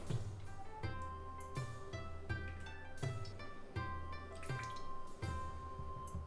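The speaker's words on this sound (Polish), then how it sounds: "dodaję sos sojowy, olej sezamowy oraz mirin" Soy sauce, sesame oil and mirin go into a chicken bulgogi marinade, a series of soft, rhythmic drips and small liquid splashes at low volume, no speech.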